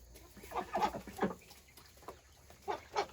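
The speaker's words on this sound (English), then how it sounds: "There's the little chick" A little chick on a farm gives soft, faint clucks in a few short clusters, close by against a quiet background.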